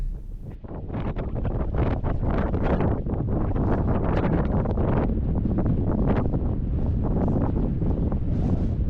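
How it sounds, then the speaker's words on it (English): Strong gusts buffet the microphone on a sunny hilltop hike on Oahu. The roar is loud and rough, swelling and surging throughout without pause, and no one speaks. "it's also pretty windy"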